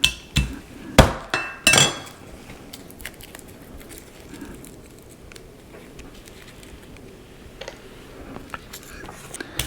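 Four sharp hammer smacks in quick succession on a smoked boneless pork loin roast, crisp and close, followed by quiet shuffling and faint crackling bits.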